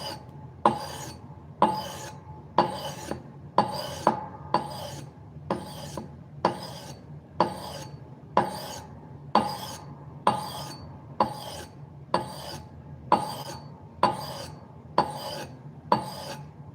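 Steady back-and-forth scraping of a blade across a 3000 grit whetstone, a regular rasping stroke repeated about every second, close and clear with no voices.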